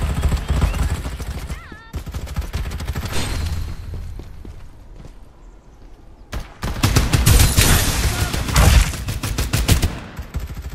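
Gunfire in the video game Farlight 84: bursts of rapid automatic shots, loud and close, with a dense, sustained volley near the end and quieter gaps between.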